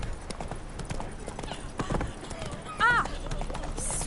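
A horse gallops in The Witcher 3, with steady clip-clopping hoofbeats running throughout, a brief whinny-like call midway, and game voices and ambience layered over it.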